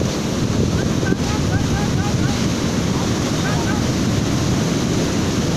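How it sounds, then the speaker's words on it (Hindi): Sea waves breaking on the Bay of Bengal shore, a steady roaring wash of surf mixed with heavy wind buffeting the microphone, continuous and fairly loud throughout. "हम देख सकते हैं कि समुद्र कहाँ से आ रहा है, देखिए।"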